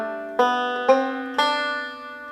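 A melodic-style banjo phrase over an F measure, three plucked attacks with bright ringing strings overlapping and sustaining, played close and alone.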